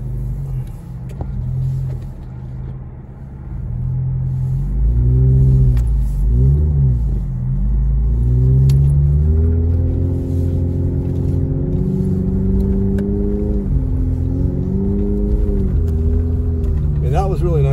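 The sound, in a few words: four-wheel drive truck revving, struggling in blizzard snow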